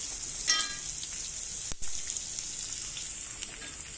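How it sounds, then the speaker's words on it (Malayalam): Onions sautéing in a pan for fish curry give a steady, soft sizzle throughout, close and low in level, with a brief clink of a utensil near the start. "ഇതെല്ലാം കൂടി വഴറ്റി വരുമ്പോൾ നമ്മൾക്ക് ഇതിലേക്ക് സവോള ഇട്ട് കൊടുക്കാം"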